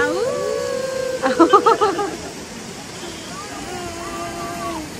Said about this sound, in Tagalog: Ay, ano sabi nung aso?